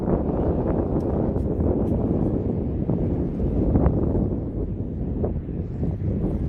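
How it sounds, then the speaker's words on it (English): Steady gusty wind buffets the microphone outdoors at a horse training session, a continuous low roar that swells and dips for the whole stretch with no talk over it. "Wind kicked up, it did."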